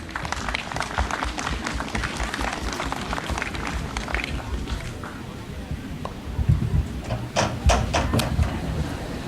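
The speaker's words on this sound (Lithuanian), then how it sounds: "Pasitikime plojimais." Festival audience at a Pentecost (Sekminės) celebration in Skriaudžiai, Lithuania, applauding a welcomed guest: sustained dense clapping from a crowd throughout, swelling louder near the end, with no speech over it.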